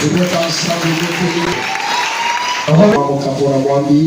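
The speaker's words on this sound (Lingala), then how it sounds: "Et le peuple de Dieu acclame la parole." A church congregation applauding and cheering, a steady wash of clapping running beneath prominent voices that swell louder in the second half.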